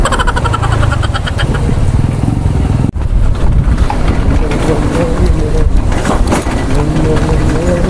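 A motorcycle engine revs and rumbles steadily up close as the bike jolts along a rough, rocky dirt track toward a waterfall, with one sharp knock partway through.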